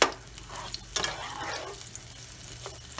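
Onions sizzling in a pan while cooking for a homemade lasagna, a steady frying hiss with a few stirring scrapes, close and alone.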